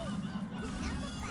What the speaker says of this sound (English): the penguins make chicken noises when you kill them